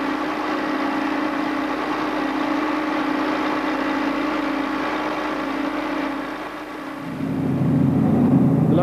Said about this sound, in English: hours of work were rewarded by the sweet sound of a running engine